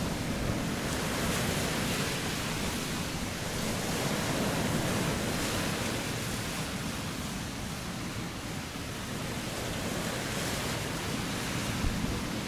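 Big ocean waves crash and roll onto a beach, making a loud, continuous roar of surf mixed with wind buffeting the microphone, steady from start to finish with no voices.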